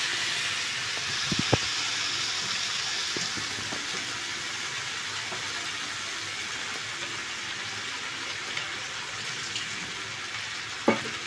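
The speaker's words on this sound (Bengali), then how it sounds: "এবার একটু জল দিয়ে দেবো" Water poured into a hot pan of potato and pea curry, a loud steady hiss of steam and sizzling sustained throughout, with a few faint clinks.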